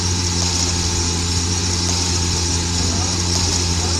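A SWAT van's engine in a video game runs at a steady idle-like drone, with a continuous low hum and hiss throughout, fairly loud and unbroken.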